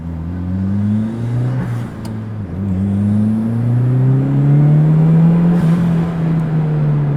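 A turbocharged, K23-swapped EG Honda Civic pulls hard under acceleration, its loud, close engine note climbing steadily through the revs with a brief dip at a shift, heard alone without talk.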